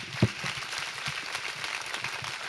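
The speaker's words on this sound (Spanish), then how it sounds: "recibámosla con un aplauso" Soft applause from an audience at a mathematics education conference talk, a faint, even patter of many hands, distant in the room, with one sharper knock near the start.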